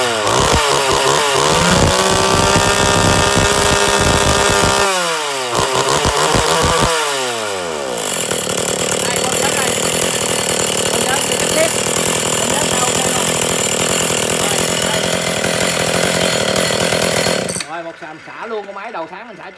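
A Stihl 020 chainsaw engine runs loud and close during a test, revving up and dropping back several times before it cuts off abruptly near the end.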